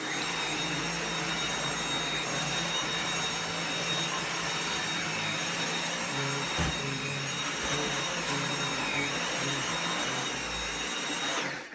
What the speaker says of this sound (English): I love hoovering now.